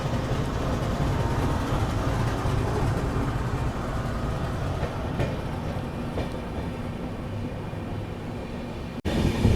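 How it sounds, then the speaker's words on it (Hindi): A Humsafar Express running non-stop from Delhi to Prayagraj makes a continuous rolling rumble and wheel noise at speed, with a sharp click near the end and no talking. "और भाई ये ट्रेन अपने टेक्निकल हॉल्ट से निकल चुकी है।"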